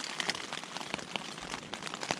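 Steady rain patters on a wet wild campsite, a dense, even hiss of drops with occasional louder close taps, continuous and fairly faint with no voices.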